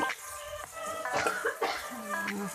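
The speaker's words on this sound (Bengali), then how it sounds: "কথা বলতে বলতে না কাশি পেয়ে যায়" A person coughs several short, dry times in quick bursts while speaking, with voiced sounds between the coughs at close range.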